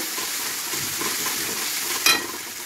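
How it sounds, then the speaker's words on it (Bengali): Ginger paste sizzles as it is stirred into onions frying in oil for a Bengali fish curry, a dense steady hiss with a brief sharper spatter near the end and no talking. "দিয়ে দিলাম আদা বাটা, একটু নেড়ে নেব।"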